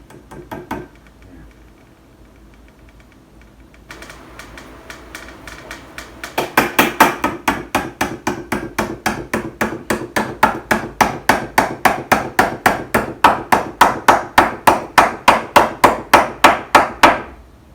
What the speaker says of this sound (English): Get a firm hold on this leg when you hammer this in, otherwise you wind up breaking it.